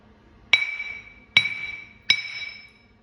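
A cast Perkins engine idler gear is struck three times at a steady pace. Each blow gives a bright, clear metallic ring that fades over most of a second before the next.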